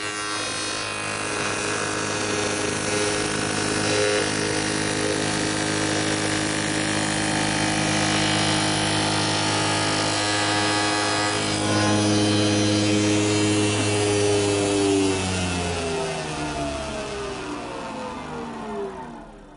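A spindle moulder runs steadily in a woodworking shop, a loud sustained machine whine with shifting tonal bands, the pitch dropping as it slows toward the end.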